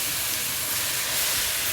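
Cabbage fry being tempered in a pan gives a loud, constant hissing sizzle that holds steady close-up throughout, with no talking.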